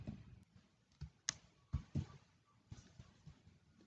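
Computer keyboard keys clicking while Ctrl V is pressed to paste, a handful of faint, sparse taps and clacks at uneven intervals in a quiet room.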